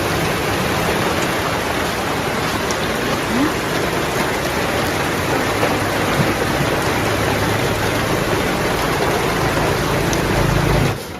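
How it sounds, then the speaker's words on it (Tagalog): Steady rain pours down during a typhoon in a dense, even hiss, close and loud, with no break throughout. "Yan maulan na ngayon."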